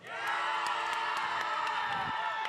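A tournament crowd at a VEX robotics event cheers and shouts loudly for the Red Alliance in a sustained, dense roar with high whoops throughout.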